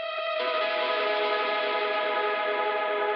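Distorted lead guitar with extra delay holds a sustained, layered tone in a pop-gaze song, changing to a denser, smeared texture early on and ringing steadily, spacey and continuous, with no speech.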